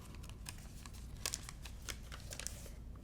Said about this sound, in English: I like to fold my paper back,